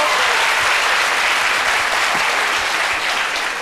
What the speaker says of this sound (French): On applaudit très fort, Philomène.